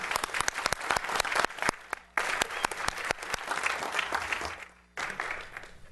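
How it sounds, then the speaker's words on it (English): Audience applause fills a city council meeting chamber, steady clapping from a crowd lasting several seconds with a brief dip partway through, loud and close. "I would like for everybody to give them a big round of applause."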